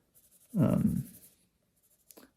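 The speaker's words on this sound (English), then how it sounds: "I like to use the side of the pencil here and there just to get a little bit of variation in there." A pencil shades on paper using the side of its lead, making a close, rough scratching stroke in one firm burst, followed by lighter faint scrapes.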